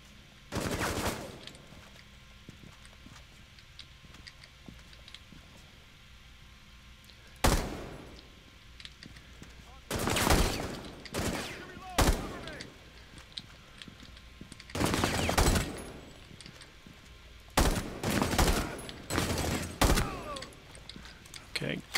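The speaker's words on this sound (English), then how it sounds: "Shooting." Automatic weapon fire in the tactical shooter Rainbow Six Siege rings out in loud, repeated bursts with pauses between them over about twenty seconds, some bursts sharp and brief, others sustained.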